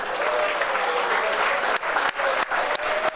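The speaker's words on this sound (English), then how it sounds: "Let's give a big round of applause." Spectators at the final day of the Aldo Della Croce bocce tournament, hosted by the Italia America Bocce Club, applaud after the final game with a loud burst of crowd clapping that briefly dips and swells toward the end.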